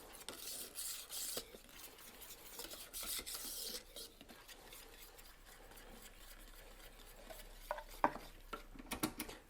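A paint mixture for a wood finish is stirred in quiet bursts of scraping and rubbing, ending with a few light clinks. No one speaks.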